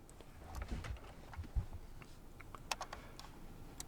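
Keys tapped on a computer keyboard while a web address is entered, a quiet irregular run of light clicks with a few sharper presses, close and alone without speech.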